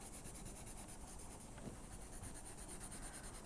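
Soft, continuous scratchy rubbing of a colored pencil shading on paper, faint and close, with a steady back-and-forth rhythm.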